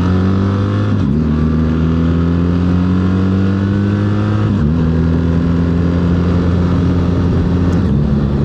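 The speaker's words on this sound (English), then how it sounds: "Torque from this engine, that quick shifter, she hits hard." A BMW R 1300 GS motorcycle engine pulls hard through the gears with a quick shifter, loud and close, its drone climbing in pitch, then dropping sharply at each of three upshifts over steady wind noise.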